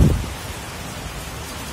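Steady heavy rain hissing close by, with a brief low rumble at the very start before the downpour settles into a constant wash.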